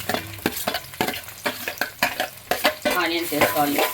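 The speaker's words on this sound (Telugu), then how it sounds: "బాగా నూనె కాలిన తర్వాత ముందు మనం ఈ ఆనియన్స్ వేసుకోవాలి" Onions frying in hot oil for a small-anchovy fish curry, a busy sizzle punctuated by frequent rhythmic clanks and scrapes of a ladle against the pan, close and loud.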